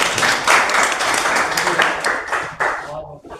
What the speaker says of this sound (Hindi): तालियां बजा दो भाई,